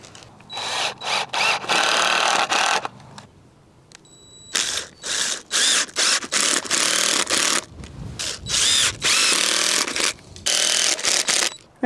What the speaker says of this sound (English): I'm just gonna run these exterior screws.